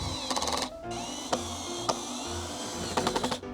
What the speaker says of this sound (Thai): เพราะฉะนั้นเราก็จะเจาะรูแล้วเราก็ยึดด้วยสกรูนะครับ